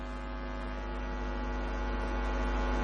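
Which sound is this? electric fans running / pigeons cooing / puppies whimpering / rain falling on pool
electric fans running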